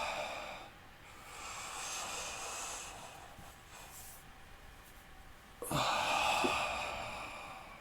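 A slow breath out during a yoga exercise, soft airy exhalations rising and falling, with a stronger exhale near the end, quiet and close.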